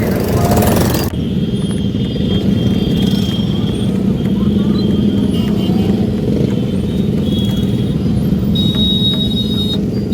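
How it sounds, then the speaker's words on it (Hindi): Heavy road traffic during the Kanwar Yatra pilgrimage near Har Ki Pauri, heard as a constant, close engine rumble and road roar with occasional higher tones over the top for the whole stretch. "बहुत ज़्यादा ट्रैफिक है।"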